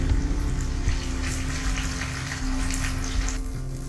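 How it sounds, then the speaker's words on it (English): Steady sizzling and hissing of pomfret frying in a hot pan, continuous and close, with faint clinks now and then. "You can give at least 10 minutes for frying."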